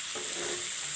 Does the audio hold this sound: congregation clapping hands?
no